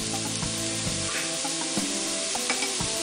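Chili powder and turmeric sizzle in hot oil in a pan for cauliflower pachadi, a steady close frying hiss with a few scraping stirs and knocks of a spoon, no talking.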